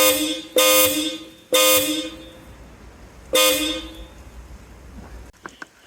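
A Hella dual horn fitted to a Toyota blares three times, loud and close: two short honks, then a slightly longer one after a pause. Each ends abruptly and is followed by a brief decay.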